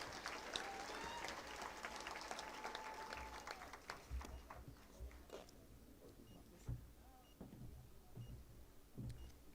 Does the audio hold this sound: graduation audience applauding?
yes